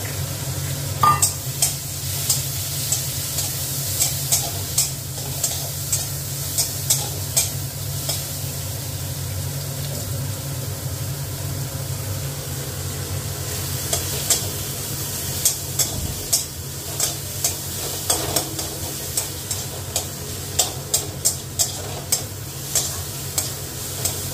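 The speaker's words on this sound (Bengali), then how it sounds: "কাঁচা পেঁয়াজটাকে এবার একটু ভাজবো" Raw onion frying in a pan, a loud, even sizzle that runs throughout, with regular light taps and scrapes from a stirring utensil and no speech.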